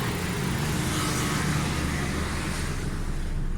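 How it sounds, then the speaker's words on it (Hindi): A Suzuki Baleno car engine idles steadily with a low, even rumble, close and continuous. The car has an AC and fuel fault, and its rpm rises and falls. "गाड़ी स्टार्ट है, देखिए कैसी स्मूथ है।"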